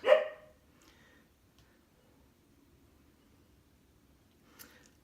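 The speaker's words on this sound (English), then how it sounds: "my dog's out there wondering who I'm talking to in here" A short, loud dog bark right at the start, indoors and heard through a wall, followed by near silence, then a fainter second yelp near the end.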